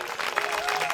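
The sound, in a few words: audience clapping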